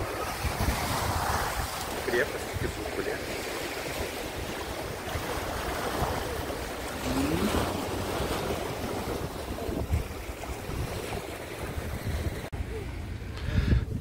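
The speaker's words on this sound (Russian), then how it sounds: "Слышите? Море." Sea waves surge and wash continuously at a port with blustery wind noise on the microphone, and a voice speaks briefly in Russian over the surf.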